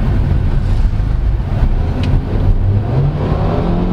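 2022 Kia Stonic Style Edition with automatic transmission at full throttle in third gear, its engine droning steadily and rising in pitch from inside the cabin amid road noise.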